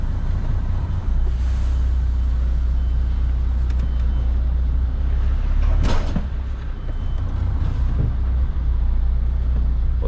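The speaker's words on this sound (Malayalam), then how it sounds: "അപ്പോഴാണ് കിങ് പിൻ ആയി മറ്റൊന്ന് ഇരിക്കുന്ന സൗണ്ട് നമ്മൾ വൃത്തിയായിട്ട് കേൾക്കുള്ളൂ" A semi-truck tractor couples onto a trailer kingpin while its diesel engine idles in a low, steady rumble. A single sharp metallic clunk lands midway, followed by a faint hiss.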